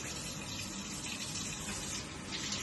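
Cool tap water runs steadily into a sink, a constant close rushing stream from start to finish with no voices.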